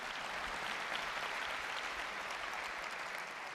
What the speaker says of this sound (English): You can clap, it's good.